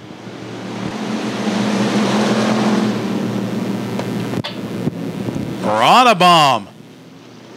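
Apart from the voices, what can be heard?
race cars accelerating at green flag restart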